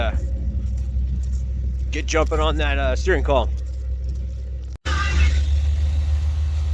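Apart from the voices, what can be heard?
1987 Chevy 1500 truck engine idling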